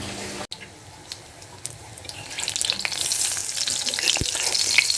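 Lentil fritters (dal bora) frying in a pan, with a close, steady sizzle and crackle that swells louder over a few seconds, no talking.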